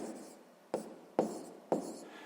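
Pen scratching across paper while a sixth-grade math exercise is solved by hand, heard as three short, quiet strokes, each starting sharply and fading, in a still room.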